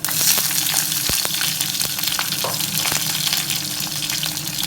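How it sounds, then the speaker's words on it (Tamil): Onions, garlic and curry leaves sautéing in a pan give a loud, continuous close sizzle, with occasional light clicks of stirring. "எல்லாத்தையும் போட்டு நல்லா வதக்கணும் இந்த வெங்காயம் கொஞ்சம் கலர் மாறுற வரைக்கும் நல்லா வதக்க போகிறேன்"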